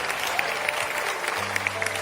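A room full of people claps steadily, a dense patter of applause, with a low hum entering near the end.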